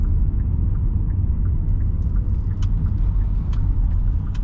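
A car drives around a roundabout near Tollar Lane in Heaton, Bradford, its steady low road rumble and engine noise filling the interior, with faint light clicks above and no talking.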